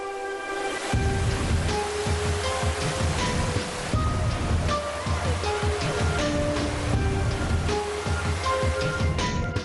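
Sri Getuk waterfall in Gunung Kidul, a steady loud rush of falling water filling the scene with dense continuous roar, unbroken throughout and with no one talking.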